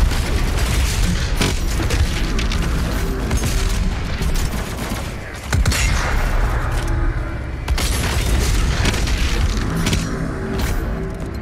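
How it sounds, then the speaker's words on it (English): The super shotgun fires in DOOM Eternal amid constant loud booming blasts and chaotic combat noise, a dense layered barrage that hardly lets up. "the super shotgun."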